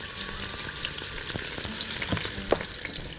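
Onion sizzling in ghee in a very hot pot, a steady broadband frying hiss with occasional crackles and pops and a few stirring clinks, close and moderately loud, no talking.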